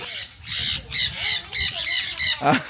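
Birds in a resort bird enclosure at Khao Yai squawk loudly and close by, about seven harsh calls in a steady rhythm, with faint voices underneath.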